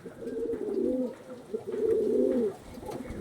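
Andhra pigeons coo loudly and close, two long throaty rolling calls followed by a shorter third, with soft rustling between them.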